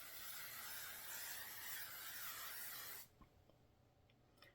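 A setting mist sprayed onto the face: a steady hissing spray runs for about three seconds, close and continuous, then cuts off abruptly into near silence with a few faint clicks.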